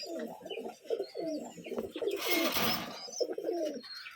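Giribaz and high-flying pigeons coo in a pigeon loft at a Rajshahi farm, with steady overlapping rolling coos throughout and a brief rushing burst midway, close and fairly loud.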